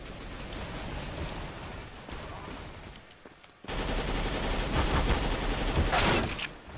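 Rapid bursts of automatic gunfire in the video game CS:GO rattle continuously. The firing drops out briefly partway through, then comes back louder and denser.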